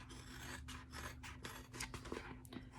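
Scissors trimming the edge of stitched backpack fabric close, a quiet run of short rasping snips and rubs in an uneven rhythm, with no talking.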